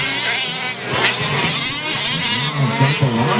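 Fifth-scale off-road RC trucks race at an Ontario championship moto at Walton's 4WD Truck Pro track. Their small engines rev loud and near in an unbroken, buzzing roar that climbs and falls as the trucks accelerate.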